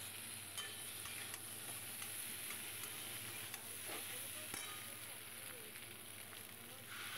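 Salt, turmeric, cumin powder and coriander powder frying in a pan for a small-potato dum while being stirred: a faint, even sizzle with light scraping and occasional ticks, low and continuous.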